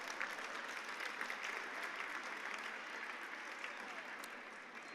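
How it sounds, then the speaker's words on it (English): A conference audience applauds a panel, a steady wash of many hands clapping at moderate distance that fades slightly toward the end. "So let's give that panel another round of applause."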